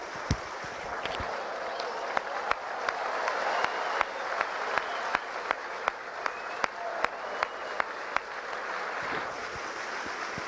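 Outdoor crowd applause for a competitor battling the wind, scattered clapping over steady wind and ambient noise with sharp individual claps standing out.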